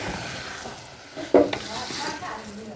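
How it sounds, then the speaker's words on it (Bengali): Washed rice is tipped into a pot of cooking biryani with potatoes and meat, giving a brief soft rush and clatter over a low sizzling background, close by with no talk. "এখন আমি চালগুলা দিয়ে দিব।"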